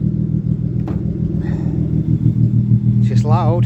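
A low-boost turbocharged BMW E36 328i track car engine runs loud and steady at a rumbling idle, close by, with people talking over it.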